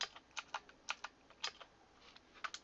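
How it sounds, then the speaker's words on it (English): Fingers type on a new computer keyboard during a game session, a quick, irregular run of light clicking keystrokes, close but quiet with no voices. "Do you think that my current keyboard is too loud?"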